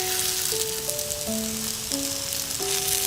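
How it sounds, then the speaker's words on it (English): Egg nests frying in olive oil in a frying pan over medium heat, a steady close sizzle under light background music with sustained tones, with no speech. "Fry for 2 to 3 minutes on medium heat"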